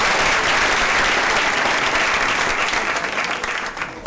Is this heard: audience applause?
yes